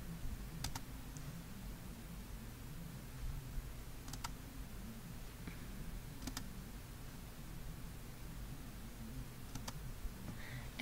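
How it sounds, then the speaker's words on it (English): Soft, sparse key clicks come from someone typing an email on a computer keyboard, a few scattered taps over a steady low background hum, faint and close. "I'm going to type the email to the teacher"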